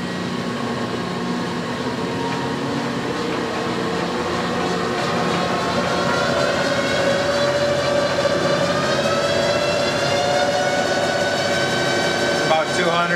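Clausing 6913 metal lathe running at low speed, around 45 RPM, a steady mechanical hum and whir with a faint rising tone, continuous and fairly close.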